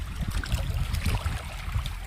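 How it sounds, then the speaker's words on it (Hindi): Fast, cold water of the Kali river in Uttarakhand rushes and churns close by, a dense low rumble with splashy surges that stays loud and continuous throughout. "चले देखते हैं पानी का बहाव कितना होगा"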